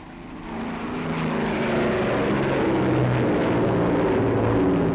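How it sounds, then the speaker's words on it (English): Lancaster bombers of 1944 roar down a runway for takeoff, a sustained propeller-engine drone that swells from moderate to loud and stays heavy and continuous without talk. "29 Lancasters race along the runway"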